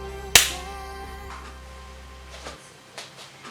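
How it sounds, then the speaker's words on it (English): A single sharp hand clap made to sync audio, one loud crack near the start followed by a short ringing decay, then quiet room tone with a few faint knocks. "What I'll do is I'll give you a clap. That way you can sync your sounds."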